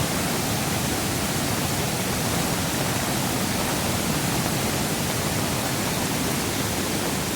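A flooded Konkan river overflowing in heavy rain churns with a continuous loud, dense roar. The rush stays close and even throughout, with no voices over it.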